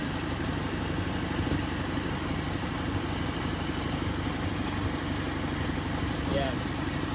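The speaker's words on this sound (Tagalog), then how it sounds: "Maingay lang yung tambutso niya mga kaibigan kasi naka-header siya." A Toyota 4K engine idles steadily with a loud, droning header exhaust, a constant close rumble throughout with no pauses.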